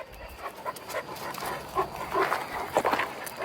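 Dogs out on a walk outdoors, panting quickly and snuffling close by in a steady, busy rhythm.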